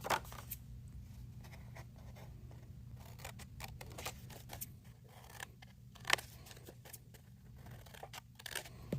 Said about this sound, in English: you're going to take a pair of scissors and you're going to cut on the line